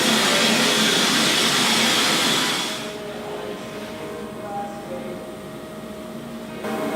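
A vapor blaster spraying an emulsified air-water mix with ceramic bead media, driven by an air compressor, roars loudly and broadband for about three seconds, then drops to a steadier, quieter hum of the running compressor.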